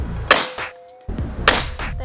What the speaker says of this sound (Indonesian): tembakan yang ketujuh